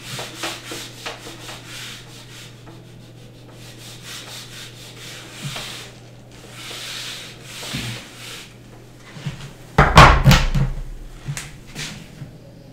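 Writing being rubbed off a board with repeated scraping and rubbing strokes, fairly close, ending in a louder burst of knocking or rubbing near the end.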